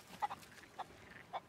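A chicken in the pirate game Sea of Thieves clucks in three short, separate bursts, moderately close, with no one talking over them.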